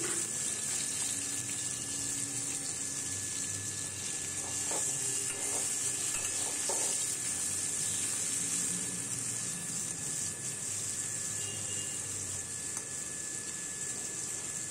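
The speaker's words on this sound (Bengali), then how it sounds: "এবার আমি ওই একই তেলে ঘিয়ে আমি আলুগুলোও ভেজে নিচ্ছি।" Potatoes frying in a mix of oil and ghee give a steady, quiet sizzling hiss with faint stirring scrapes and no talk.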